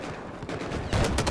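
Bursts of heavy gunfire from an enemy tank in Battlefield 4 during a Rush match on Siege of Shanghai, rapid and fairly loud, intensifying into louder cracks near the end.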